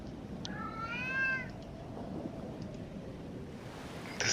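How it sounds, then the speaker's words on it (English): A cat in a point-and-click adventure video game gives one drawn-out, wavering meow early on, heard over a low, steady ambient rumble, and then the sound trails off into quiet background. "This cat sounds horny."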